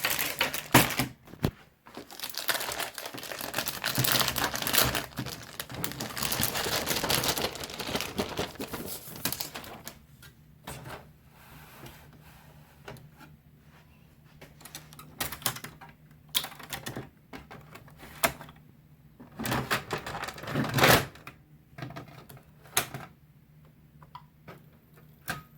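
An Epson WF-7710 inkjet printer runs a nozzle check, giving a rapid ticking, typewriter-like clatter of the print head shuttling back and forth, loud and busy at first and then lighter with intermittent bursts, with no voices.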